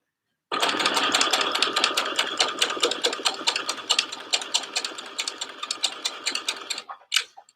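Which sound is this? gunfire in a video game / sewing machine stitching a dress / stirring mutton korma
sewing machine stitching a dress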